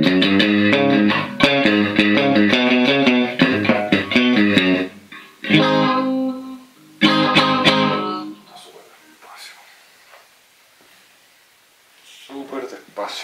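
A distorted electric guitar is recorded in a studio session, playing loud, gritty chords and riffs in bursts separated by pauses, then fading to a quiet tail.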